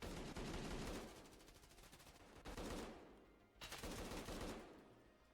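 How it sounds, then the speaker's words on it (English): Shotgun blasts in a competitive Arena Cup grand final video game match come in rapid, dense bursts of repeated shots, loud and continuous with brief breaks between volleys. "It's shots out from the shotguns."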